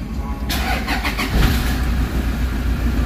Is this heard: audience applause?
no